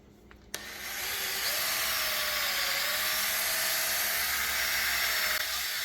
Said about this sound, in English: that's what I'm gonna work on now and see if I can get it out with the polisher